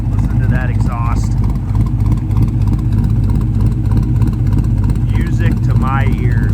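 A 1972 Chevy C10 long-bed restomod with an LS1 V8 and automatic transmission idles nearby, its exhaust a loud, deep, steady rumble with a rhythmic low throb; someone talks over it at moments.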